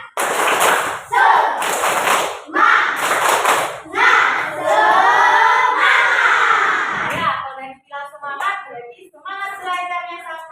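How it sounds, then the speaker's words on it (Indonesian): Elementary classroom students perform a spirit clap in several loud, sharp bursts of clapping, then chant together in a rhythmic sung pattern. "Tepuk semangat."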